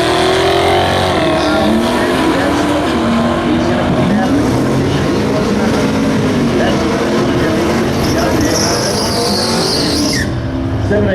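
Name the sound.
drag race cars launching, heavy Chevy handicap start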